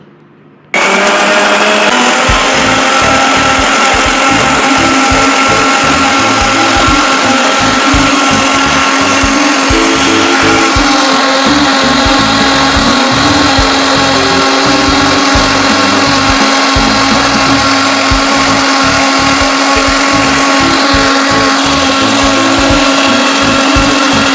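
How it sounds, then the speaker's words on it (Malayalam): A mixer grinder blends juice ingredients with a little water, its motor whirring loud and steady for the whole stretch after a brief quiet start. "ഇനി നമ്മളിത് മിക്സിയിലിട്ട് അടിക്കാൻ പോകുക"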